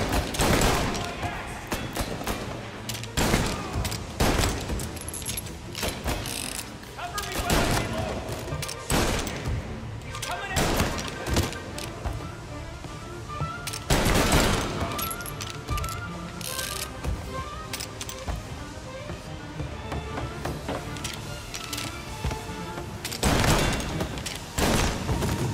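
Pistol gunfire in Mafia: Definitive Edition, a string of scattered single shots every few seconds amid game noise and ongoing chatter, spread across a long stretch.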